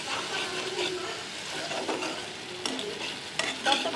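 Spice paste for a fish curry fries steadily in oil in a pan, a continuous close sizzle with scraping stirs and a few sharper clinks near the end.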